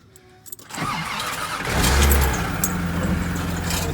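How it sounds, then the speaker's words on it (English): A Toyota Supra A70 engine cranks and fires, caught near the start, then rises into a loud, steady idle that settles and holds to the end, with no talk over it. "so I gotta put it in reverse while I start the car."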